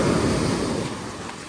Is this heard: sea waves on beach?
yes